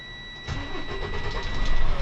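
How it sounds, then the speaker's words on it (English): A truck's diesel engine cranks and catches after the clutch is pressed in the cab during an in-cab inspection, then settles into a loud, rising idle close by. "Let's start my engine."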